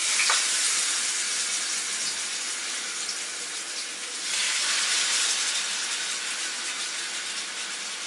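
Snapper frying in a pan on an electric burner, a steady loud broadband hiss of sizzling oil that holds continuously and swells slightly partway through, with no voices.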